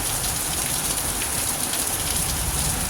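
Steady rain pours onto a vegetable garden of cauliflower and red cabbage during bad weather, a dense, even hiss of drops close by with no pauses.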